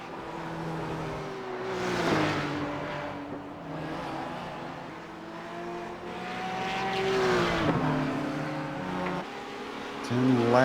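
Race-car engines in a racing video game at the Nürburgring Nordschleife, including a Porsche and Kias, rising and falling through gear changes as cars pass, moderately loud under continuous commentary.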